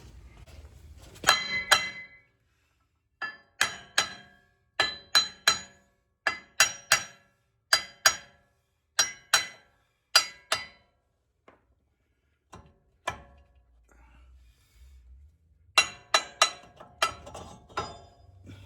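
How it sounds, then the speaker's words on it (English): Repeated metallic hammer taps on the front hub adapter piece of a 2008-2010 Ford F250 truck, coming in quick clusters of two to four sharp strikes with short pauses, close and loud with no talking. "all we're going to do is just tap on it with a hammer as we go around here"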